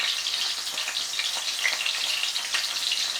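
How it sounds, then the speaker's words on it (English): Food fries in hot oil with a dense, steady crackling sizzle, close and alone without voices. "I do this and I fry it so they caramelize very well"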